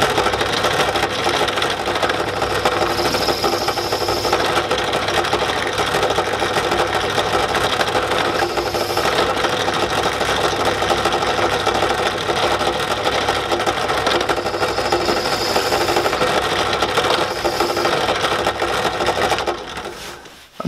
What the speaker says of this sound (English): with this tool here in the drill press is the barrel trimming tool, and we're just going to take that down